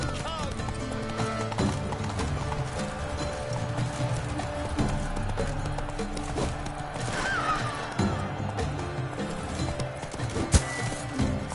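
Roach the horse gallops in The Witcher 3, with steady clip-clopping hoofbeats running throughout and an occasional snort or whinny. Voices and game sounds play over the hooves.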